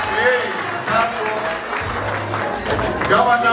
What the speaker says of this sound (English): let us clap for you, please